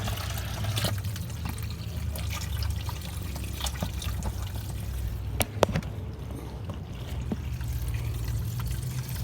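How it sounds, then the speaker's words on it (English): Water running through a tube into a hydroponic bucket for growing tomatoes, a steady trickling pour with a low rumble underneath and a couple of sharp clicks midway, no speech. "You can see this pump, or this tube, is actually filling."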